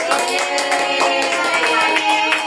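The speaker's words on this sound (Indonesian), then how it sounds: "Yuk tepuk tangan yuk buat semuanya yuk." Children clap their hands together at a school handwashing and worm-prevention health session, a bright, steady volley of claps mixed with lively background chatter and musical tones.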